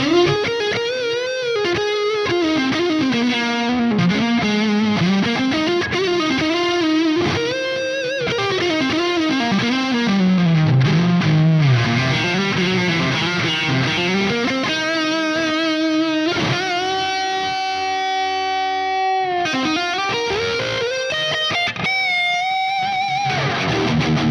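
A PRS SE Zach Meyers electric guitar with heavy distortion plays a bending, expressive lead line, loud and sustained, moving into ringing chords near the end.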